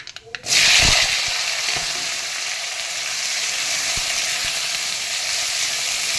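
Potatoes and soybean chunks hit hot oil tempered with panch phoron and dried red chilies, bursting into a sudden loud sizzle that settles into a steady close frying hiss with occasional stirring taps.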